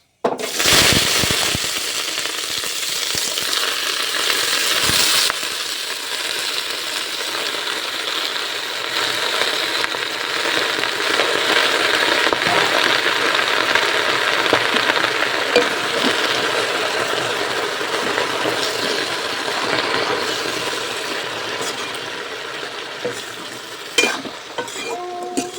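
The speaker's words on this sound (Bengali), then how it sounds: "তো তেলটা গরম হয়ে গেছে, আমি এবার শাকগুলো দিয়ে দিই।" Leafy greens hit hot oil seasoned with five-spice and fry with a loud, steady, close sizzle for the whole stretch, with occasional clatter and scraping from the pan.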